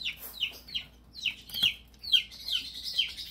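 Young chicks peep and cluck in a series of high, short calls, fairly close, with no talking.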